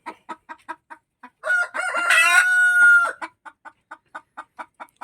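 A native heritage chicken clucks in short, regular pulses near the nesting area, broken midway by a loud drawn-out squawk, then settles back into steady clucking.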